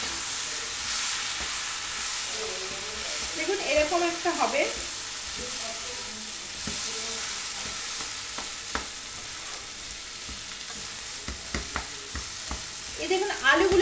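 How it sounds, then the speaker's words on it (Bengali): Potatoes for pav bhaji frying in a pan with chilli powder, cumin, coriander and salt, a steady close sizzle with spoon-stirring scrapes; someone speaks briefly over it. "এটা দেবার পরে আমি একটু এটা ভাজা ভাজা মতন হতে নিচ্ছি"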